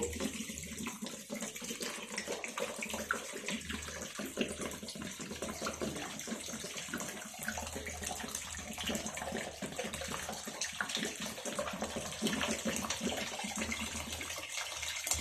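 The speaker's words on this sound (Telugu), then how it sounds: "చల్లటివి ఫ్రిడ్జ్లో కూల్ వాటర్ పోద్దామండి" Cold water from the fridge pours steadily into a bowl of soya chunks for a long stretch, a soft, continuous splashing gush with no talking.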